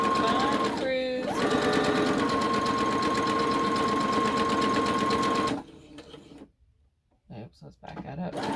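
A sewing machine stitches fabric in a fast, steady whir for about five seconds, then stops, leaving quiet handling noises and a brief restart.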